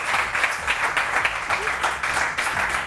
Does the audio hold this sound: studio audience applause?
yes